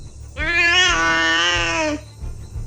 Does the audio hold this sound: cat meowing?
yes